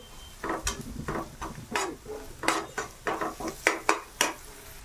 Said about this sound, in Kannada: ಈರುಳ್ಳಿ ಬೇಯುವರೆಗೂ ಚೆನ್ನಾಗಿ ಬಾಡಿಸಿರಿ